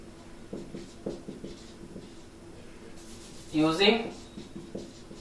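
Pen strokes scratch across paper in short bursts during a Class 10 maths lesson on real numbers, with a voice talking over the writing.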